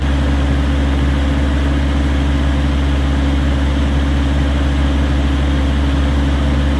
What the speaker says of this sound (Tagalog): I-accelerate ko itong makina hanggang 3 minutes mga boss